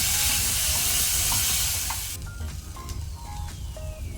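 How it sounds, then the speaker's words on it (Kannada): Onions sizzling in hot oil over a medium flame with curry leaves, a steady broadband fry that drops to a quieter, softer hiss partway through, with faint clinks above it. "ಈಗ ಈರುಳ್ಳಿಯನ್ನು ನಾವು ಮೀಡಿಯಂ ಫ್ಲೇಮಲ್ಲಿ ಫ್ರೈ ಮಾಡ್ಕೊಳ್ಳುವ."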